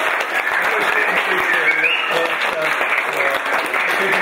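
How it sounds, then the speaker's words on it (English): Guests at a wedding reception break into applause after a speech, a steady, moderately loud round of clapping with voices mixed in. "let's have a round of applause"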